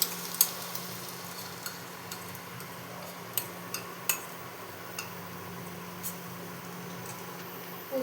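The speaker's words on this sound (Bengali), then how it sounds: "এবার এটা ভালো মতো ভাজতে হবে পেঁয়াজের সাথে" Onion and ground poppy seed paste frying together in a pan, a faint, steady low sizzle broken by scattered sharp clicks of a spatula against the pan.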